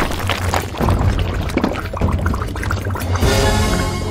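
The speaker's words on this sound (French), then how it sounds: "Il faut verser le bonbon dans ce petit pot pour les dissoudre là-dedans." Candy pours into a small pot to dissolve during a cake-decorating challenge, a continuous, fairly loud, close rushing pour that holds steady throughout with a brighter surge near the end.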